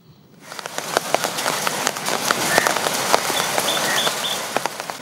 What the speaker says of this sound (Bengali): বৃষ্টি